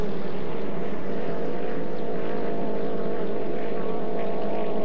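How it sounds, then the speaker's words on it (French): A 2.5 litre racing powerboat at a 1990 Valleyfield regatta qualifying heat rounds the last turn, its engine a loud, continuous droning roar that holds steady throughout. "Et voilà, Aaron Choker qui s'amène dans le dernier virage."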